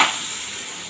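Gima greens dropped into hot oil in a pan on a gas stove, a brief close hiss of frying that starts sharp and settles into a steady sizzle.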